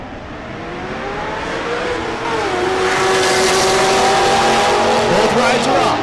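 Drag race cars launch and roar away at a race track, the engines building into a loud, sustained high-revving scream with rising pitch as they accelerate down the strip.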